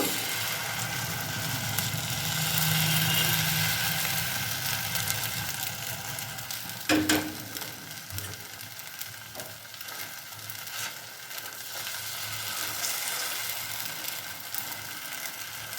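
Semolina batter with vegetables hits a hot wok and fries with a continuous broad sizzle, steady and close, with a brief clatter partway through before the hiss carries on.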